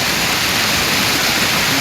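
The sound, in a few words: small Himalayan mountain river flowing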